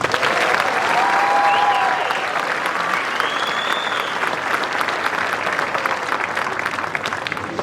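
An audience at a school winter concert applauds a jazz band's soloists with loud, sustained clapping that slowly thins, and a few voices rise among the crowd.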